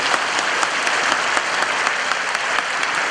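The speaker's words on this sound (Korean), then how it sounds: "뜨거운 박수로 우리 선교사님을 맞이하도록 하겠습니다." A large church congregation, packed into about three thousand seats with more people in the aisles, applauds warmly to welcome a missionary. The clapping is dense, steady and loud throughout, with no talk over it.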